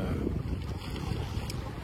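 Steady wind rushes over a sailboat running downwind, a soft continuous roar with faint water sounds beneath, fairly quiet and unbroken.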